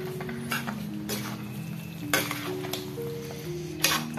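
A spoon stirs chicken curry seasoned with turmeric and salt in a pan, with scraping strokes and occasional metallic clinks against the pan over a gentle continuous sizzle.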